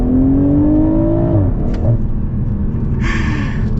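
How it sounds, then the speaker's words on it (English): A 2022 BMW Z4 M40i accelerates hard at full throttle, its engine note climbing steadily to a loud, close roar before a shift, then pulling on strongly with rising pitch and no other voices present. "so let's get our full-blown acceleration here"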